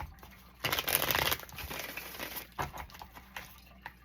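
Tarot cards shuffled by hand: a soft run of papery riffles and slides, densest near the start, then a few quieter separate flicks and taps, close and light, no talking.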